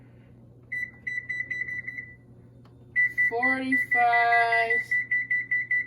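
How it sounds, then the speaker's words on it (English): A kitchen timer is set while baked BBQ chicken is prepared, giving runs of short, sharp electronic beeps close by, with a brief stretch of speech breaking in partway through. "I'm gonna try and set a timer"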